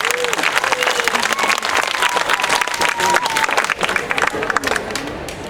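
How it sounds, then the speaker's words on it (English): Audience applause for a child volunteer at a snake presentation at OCF 2015, dense steady clapping from a crowd with a few cheers, continuous and loud for several seconds before easing slightly at the end. "A round of applause for our volunteer."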